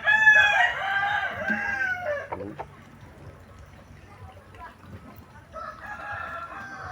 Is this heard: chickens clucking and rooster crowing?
yes